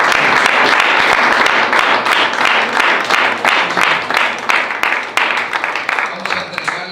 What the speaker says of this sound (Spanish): Vamos a darle un fuerte aplauso a Dios.